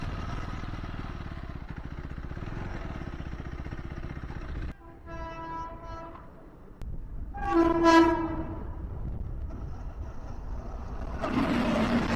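A train rumbles past nearby, and a loud horn blares twice in the middle before the steady clatter of the cars resumes.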